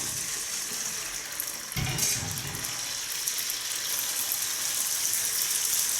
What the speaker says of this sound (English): That's the water that's making all the sizzling, is not the spaghetti.